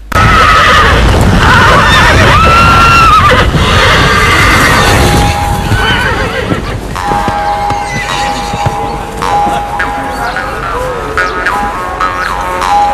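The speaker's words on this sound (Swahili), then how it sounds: "Farasi akatoa mlio mmoja wa ajabu sana kiasi cha kwamba wenzake wakaitikia." Loud, close horse whinnies ring out, followed by more neighing calls answering, with clattering and rumbling noise throughout.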